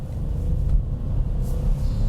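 A 2022 Kia Picanto with a manual gearbox, its engine giving a steady low rumble from inside the cabin as it corners on the road.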